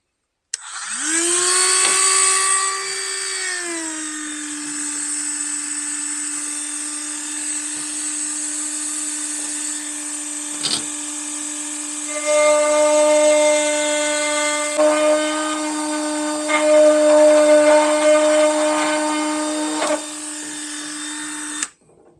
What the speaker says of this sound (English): like a grinder and a little grinding wheel I might try using as well